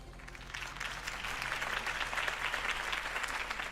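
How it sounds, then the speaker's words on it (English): A large crowd applauds steadily after Harvey Dent's campaign speech in the Telltale Batman video game, a dense wash of clapping held at even volume throughout with no voices over it. "could have heard that applause"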